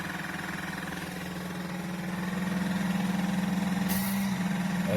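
A steady, loud hiss of an Oral-B oral irrigator water jet running continuously, with a low motor hum underneath and a brief bright burst near the end.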